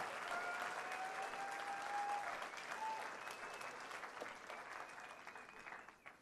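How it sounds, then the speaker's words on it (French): A church congregation applauds the Lord during a revival service, a steady broadband wash of many hands clapping for several seconds, with sustained keyboard-like tones ringing faintly beneath the clapping. "Applaudissez le Seigneur."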